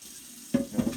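Water runs from a tap into a sink to soak material while prepping a meat smoker, starting abruptly after a quiet moment and splashing loudly and unevenly up close, with no talk.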